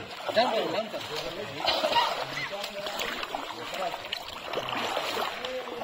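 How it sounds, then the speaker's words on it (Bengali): A waterfall near the Debotakhum trail, a steady rush and splash of falling water running continuously beneath a voice talking throughout. "এর মধ্যে থেকে একটা ঝর্ণার শব্দ আসছে, হয়তোবা শুনতে পাচ্ছেন আপনারা।"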